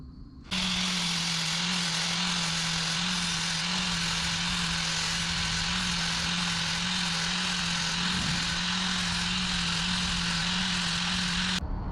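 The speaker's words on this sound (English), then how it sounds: "I'm just going to use the angle grinder and just take that face off" An angle grinder cuts down the face of a bolt on a car stud, whining loudly and steadily for about eleven seconds with a harsh, bright grinding hiss over a constant motor drone, then stopping abruptly.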